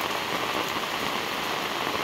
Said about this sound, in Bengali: বৃষ্টির দৃশ্যটা দেখুন, অপূর্ব সুন্দর লাগছে।